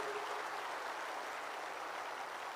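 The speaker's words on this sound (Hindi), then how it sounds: "मैं आप सबको विनंती करना चाहता हूं कि बहुत जोर से ताली बजाकर इसका स्वागत करिए" Faint, steady applause from an audience at the 17th Indian Cooperative Conference in New Delhi holds at an even level throughout, sounding distant and washed out.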